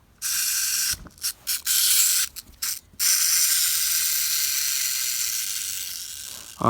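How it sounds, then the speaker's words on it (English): Winding of a Doctor Who Dalek wind-up toy figure, a dense close whirring, ratcheting mechanism running steadily for several seconds after a few short stop-start bursts, no voices. "It's a wind-up figure."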